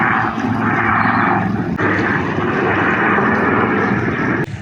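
A helicopter flies over mountain terrain near Padum in Ladakh, its loud continuous rotor and engine roar droning steadily and close throughout, with no talk over it.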